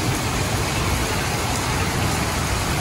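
Heavy rain pours steadily in Karachi, a dense continuous hiss of water with no break and no voices.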